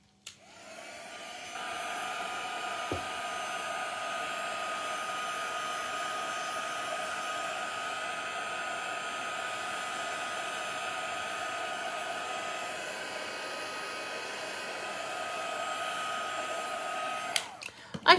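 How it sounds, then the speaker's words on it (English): Heat gun blowing over a damp painted art journal page, a loud steady whooshing hum that holds evenly for about fifteen seconds after switching on, then cuts off with a click. "I do need to hit this one with the heat gun again"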